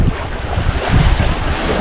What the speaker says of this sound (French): Là le vent se calme.